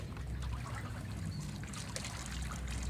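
Steady trickling and splashing of water poured onto soil, close and continuous, with no talking.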